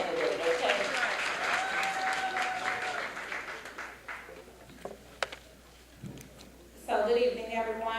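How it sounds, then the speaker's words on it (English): An audience at a candidates' night applauds a political candidate running for county commissioner, a dense steady clapping that fades out over several seconds before a voice begins speaking. "Round of applause. Let's applaud every candidate"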